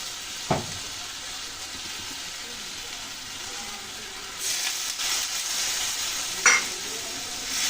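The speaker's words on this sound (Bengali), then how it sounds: "সব মশলা দিয়ে ভালো করে কষিয়ে নেব।" Spices being stir-fried with soybean chunks and potato in a pan give a steady sizzle, with a sharp scrape at the start, a louder burst of frying partway through and a clink near the end.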